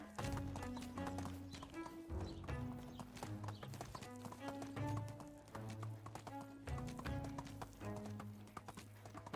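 A horse gallops in the video game Medieval Dynasty, a rapid, rhythmic clip-clop of hooves over layered background music, with a brief whinny among the steady hoofbeats.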